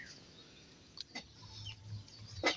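Soft, scattered clucking from free-ranging chickens nearby in the rural Philippines, with a few brief sharp bird calls over a low steady background.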